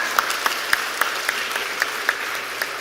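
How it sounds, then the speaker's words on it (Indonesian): An audience at a speech by Megawati Soekarnoputri at a BPIP event gives steady applause, with sharper individual claps punctuating it at regular intervals against a dense background of hand claps. "Tepuk tangan ya, tepuk tangan aja."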